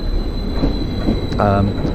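Passenger train rolling on rails toward Ipswich, a steady close rumble of wheels and carriage with a brief squeal of wheels against track partway through.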